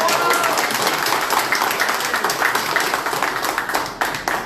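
Guests at a 70th and 61st birthday celebration applaud together, a full room of clapping that stays loud and then turns into more distinct, rhythmic claps, with some voices mixed in.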